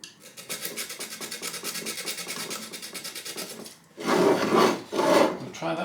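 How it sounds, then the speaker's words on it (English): Ignition points on a small engine being cleaned with a file: steady, rapid rasping strokes close up for about four seconds, then a brief pause and louder, coarser scraping bursts. "I think I'll just clean the points, just in case."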